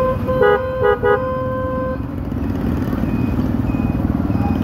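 A car horn honks in a few short blasts, then steady road traffic rumbles on in busy street traffic by the Zaragoza market in Nueva Ecija.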